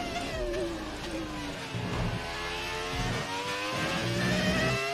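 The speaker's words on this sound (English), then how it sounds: "Yeah, it's traction control. You can't take it off on this car." Ferrari F2004 Formula One car in a racing video game, its high engine note rising and falling under power with repeated crackling cuts from the traction control, loud and continuous, with a voice talking over it.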